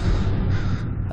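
A crow-like bird caws loudly and harshly in the video game Portal 2, a dense, continuous burst of cawing close up with no talk over it.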